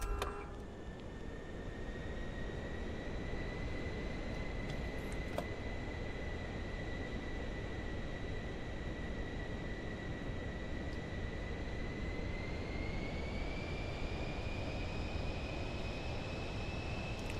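A Microsoft Flight Simulator 2024 airliner on its takeoff run holds a steady, loud engine roar with a sustained whining tone that climbs in pitch near the end as power builds, with no talk.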